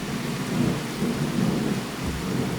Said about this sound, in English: Can you hear the thunder? There's a storm breaking.